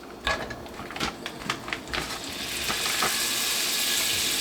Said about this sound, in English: I just want to drop me like a half a stick of butter up in here